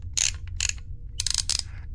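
Several quick bursts of sharp mechanical clicking, like a dial being turned notch by notch, over a low steady rumble.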